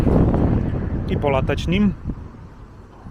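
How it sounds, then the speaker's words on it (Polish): Outdoors, wind buffets the microphone as a low, rumbling roar, strongest at the start, while someone speaks briefly over it in Polish. "ja odwrócę się tyłem do wiatru"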